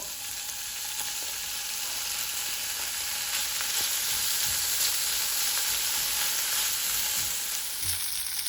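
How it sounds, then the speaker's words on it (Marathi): Bacon rashers frying in a frying pan, a dense, even sizzle with faint crackles and pops that holds steady and close throughout, with no voices. "आतां दुसऱ्या फ्रायंग पॅनाचेर आमी हें रेशर बेकन फ्राय कोता पयलो"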